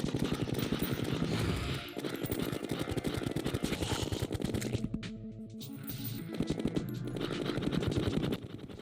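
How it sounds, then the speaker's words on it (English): Rapid gunfire from chlorophyte bullets in the video game Terraria, a dense continuous stream of fast shots with game sound effects layered over it, briefly thinning near the middle before resuming at full loudness. "It is satisfying to use chlorophyte bullets, though, as much as you can, just to kind of aim the mouse wherever and it hits all the enemies you want."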